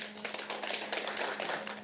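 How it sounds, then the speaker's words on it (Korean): Audience at a Jongno district council residents' meeting about a Changsin-dong public rental housing project claps for the council members, a dense, steady patter of many hands at moderate level with a faint hum beneath. "의원님들께 박수를 한번 주시는 게 어떨까요?"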